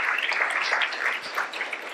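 An audience at a youth panel on environmental action applauds, a short, steady burst of clapping at moderate distance with no voices over it.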